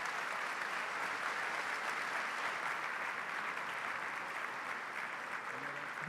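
Steady, dense applause from a large crowd at a political interview event in Argentina, filling the whole stretch at an even level without letting up.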